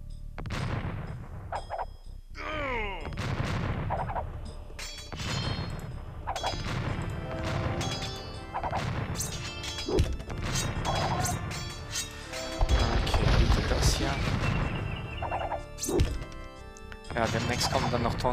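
Repeated cannon fire from a German Let's Play of Age of Empires II HD: The Age of Kings, with heavy booms and crashes following one another closely throughout and a voice talking over the battle.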